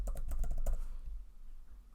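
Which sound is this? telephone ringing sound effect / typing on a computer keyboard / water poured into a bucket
typing on a computer keyboard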